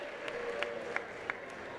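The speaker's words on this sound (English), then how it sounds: "An applause coming from Mr. Ed Pixon, the Federation of the Philippines Secretary General" Sustained applause from the audience at a Southeast Asian Games women's light flyweight boxing gold medal ceremony, a steady dense clapping wash with a few sharper accents, moderately distant in a large hall.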